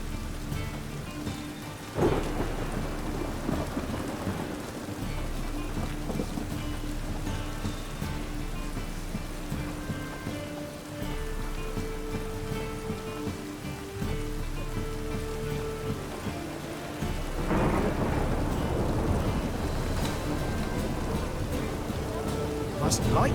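Steady rain pours throughout in The Witcher 3 video game, with deep rolling thunder swelling twice, near the start and again later, under a low musical drone.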